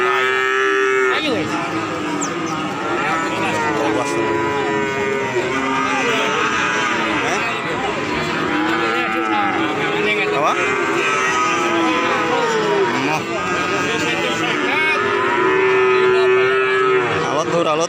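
Cattle moo repeatedly and loudly at a rural cattle-buying spot where Pegon Jowo cattle are on offer, long drawn-out calls overlapping amid constant background voices and crowd noise.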